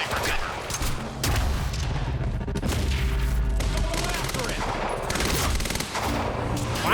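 Sustained gunfire in the shooter game Quantum Break, dense overlapping shots running continuously at close range, with brief game voice callouts mixed in.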